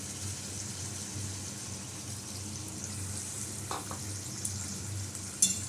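Potatoes, tomatoes, salt, turmeric, chili powder and ginger paste fry together in a pan with a steady, soft sizzle and a few light clinks.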